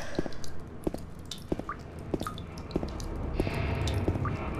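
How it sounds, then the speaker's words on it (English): Water drips in the dark ambience of Silent Hill 2: a dozen or so sharp, wet plinks and squishy drops fall at irregular intervals, close and distinct over a low, murky background rumble. "I'll go for the drippy ambient anytime."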